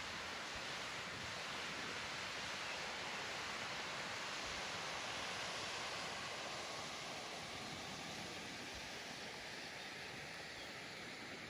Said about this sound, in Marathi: मस्त सुंदर असा धबधबा आहे आमच्या गावी